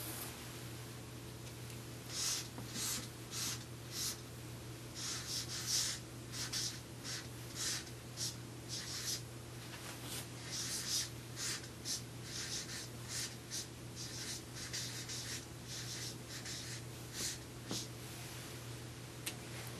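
A marker writes on a flip chart in a run of short, squeaky strokes, some bunched in quick bursts, heard close over a steady low hum with no speech.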